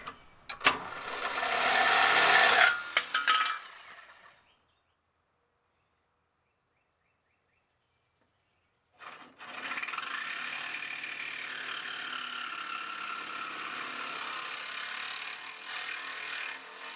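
Saw fitted with a new smaller blade cutting through a car's frame rail on a 1963 Ford Falcon, a harsh rasping burst that stops, then after a silent pause a steadier, longer stretch of cutting noise, close by.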